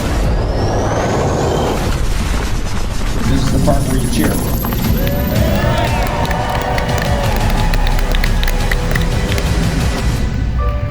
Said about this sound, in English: This is the part where you cheer.